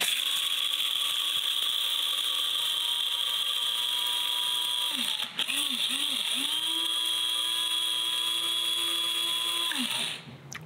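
KRUPS F203 electric spice and coffee grinder with stainless steel blades grinding coffee beans: a loud, steady high-pitched motor whine that holds for about ten seconds, briefly wavers midway as the load shifts, then winds down at the end.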